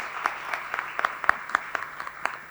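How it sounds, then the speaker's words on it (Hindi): An audience at a freelancing panel event claps together in a sparse, uneven round of applause, individual claps standing out as sharp close hits over a softer background patter. "पूरी पेफ्ला टीम और इब्राहिम सर के लिए तालियां हो जाएं"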